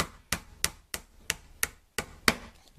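A hammer striking a punch to drive out an AR trigger pin, seven sharp metallic taps in an even rhythm, close and distinct with quiet gaps between.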